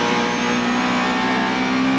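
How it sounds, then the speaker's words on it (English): Touring cars from the 1995 Australian Super Tourers series, including a BMW and Audis, accelerate hard at Phillip Island, a steady loud engine roar holding a sustained tone for the full stretch with no talk over it. "Now the BMW's starting to stretch away as they put the power down."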